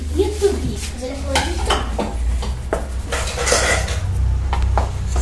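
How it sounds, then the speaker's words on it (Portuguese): Dishes, pots and cutlery are washed in a sink, with repeated clinks, clatters and metallic scrapes close by and no voices. "a gente vai lavar a louça"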